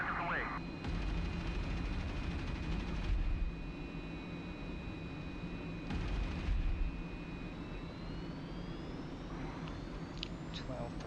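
An F-86 Sabre fires rockets in the DCS World flight simulator: two rushing, broadband bursts, the first about two seconds long and the second shorter, rise over a steady jet engine drone with thin whining cockpit tones.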